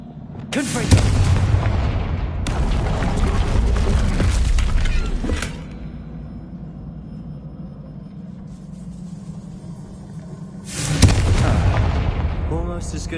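Confringo spell explosions in Hogwarts Legacy on PS5 go off as loud roaring blasts with rumbling tails, two long bursts back to back, then a quieter stretch before a third blast near the end.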